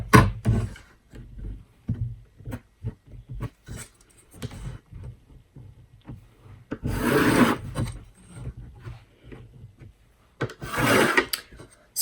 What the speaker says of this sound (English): So I'm just going to quickly draw my grid out.